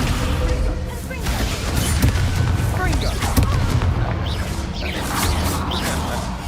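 Descendo spell slamming an enemy down in Hogwarts Legacy, heard as heavy booming impacts and crashing blasts in a dense, loud stretch of combat noise, with a voice talking over part of it.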